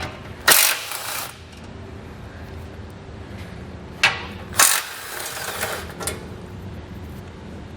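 A 5/8 socket wrench loosening bolts on the metal front guard of a 2018 Jeep JL Wrangler, sharp ratcheting bursts near the start and again later, close and clear over a quiet background with no talk.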